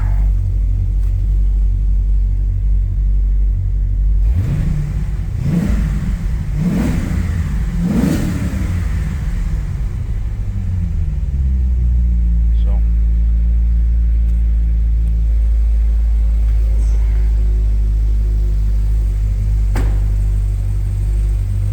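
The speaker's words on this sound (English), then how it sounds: "Got a little throttle blip." A Chevrolet Corvette C6 Z06 with 116,000 miles idles with a deep, steady rumble. Three quick throttle blips rise sharply and fall back, then the engine settles into a smooth idle with no talk.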